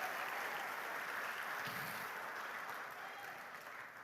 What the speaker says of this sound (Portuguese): Se você recebe, dê um aplauso ao Senhor.